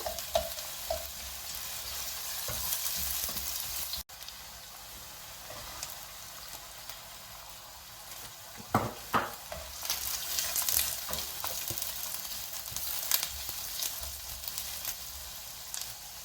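Onion and chili stir-fry in a pan over a high flame for veg noodles, a steady close sizzle broken by a few scraping stirs and clanks of the utensil.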